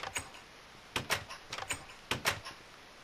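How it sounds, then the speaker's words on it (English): A door opening in Minecraft, heard as several short, crisp clicks and clacks arriving in small clusters against a quiet background, with no voices. "Can you open the door?"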